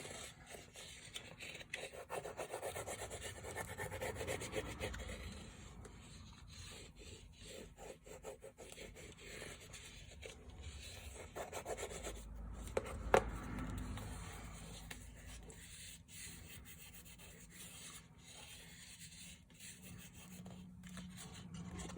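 Glued paper is pressed and rubbed onto a cardboard album with steady, soft scraping strokes, close and quiet, with no talking.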